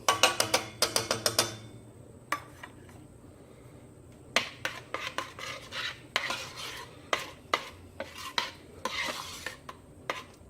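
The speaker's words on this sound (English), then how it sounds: "we're going to stir in a 1/4 cup of cream" Cream is stirred into leek and potato soup in a pot on the stove, with a quick burst of spoon clinks, a pause, then a longer run of scraping and tapping against the pot over a faint low simmer.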